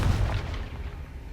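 A Confringo fire spell blasting in Hogwarts Legacy, a short deep boom that rolls off into a fading rumble, heard alone without voices.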